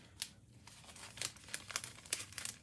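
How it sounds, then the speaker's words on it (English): Paper envelopes crinkle and rustle as items are slid inside, a series of close, quiet crumpling and scraping sounds in irregular bursts. "We're going to put these 2 in the envelopes."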